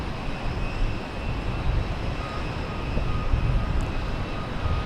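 A JetBlue or Delta jet airliner at Boston Logan Airport gives a steady, broadband roar with a faint high whine, holding at an even level throughout with no talking.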